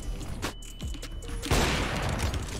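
Gunfire in Counter-Strike on the remastered Mirage map: a few sharp shots early, then a dense, loud burst of continuous fire filling the final second, with no talk over it.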